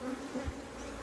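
Angry Africanized honey bees buzz in a dense, steady drone that fills the air, close and continuous, with no voices over it.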